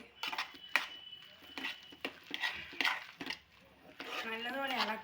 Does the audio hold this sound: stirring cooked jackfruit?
yes